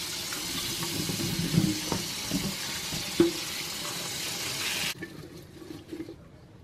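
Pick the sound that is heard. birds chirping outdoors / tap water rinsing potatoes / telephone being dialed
tap water rinsing potatoes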